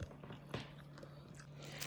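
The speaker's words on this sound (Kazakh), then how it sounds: "Прям қытырлап тұр ғой, конфетке ұқсап." Quiet crunching bites into a crunchy nut-filled candy, a few close, crisp snaps and chews against a faint steady hum, with no speech.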